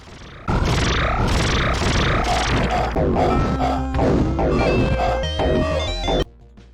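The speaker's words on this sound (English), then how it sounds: "Reese's moans as he takes damage, laser fire" Dense chiptune effects from The Terminator on Sega Genesis/Mega Drive: rapid sweeping laser-fire zaps mixed with short distorted grunting moans of a character taking damage, loud and busy, ending abruptly.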